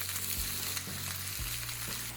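Beef sears in a hot pan with a steady, close broadband sizzle, a low hum running beneath and a few soft shifts as the meat settles; no one speaks.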